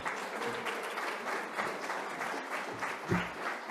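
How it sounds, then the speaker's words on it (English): Audience giving welcome applause to a session moderator at a conference, steady crowd clapping at moderate distance with a faint voice briefly underneath near the end. "I always appreciate welcome applause because you haven't done anything to earn it."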